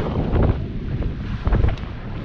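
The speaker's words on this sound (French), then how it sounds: "Le top, il y a 18 nœuds de vent." Strong wind of about 18 knots while sailing through the Strait of Messina, buffeting the microphone in a steady loud roar with gusts, alongside sea and boat noise.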